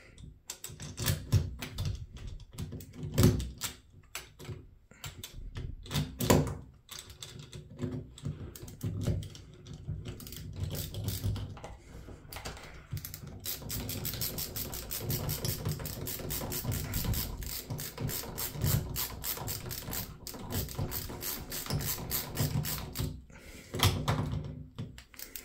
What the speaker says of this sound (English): This is why I like that ratcheting screwdriver,